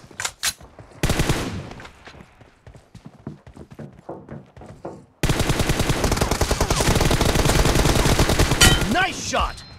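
Video-game gunfire in a one-on-one match: bursts of rapid shots, the second half a dense, sustained barrage, loud and close.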